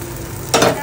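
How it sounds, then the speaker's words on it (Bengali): Food lightly frying in a pan for breakfast, a soft steady sizzle that swells suddenly louder midway, as if something was just added or stirred, with no talking. "হালকা করে ভেজে নিব আমার মেয়ের জন্য"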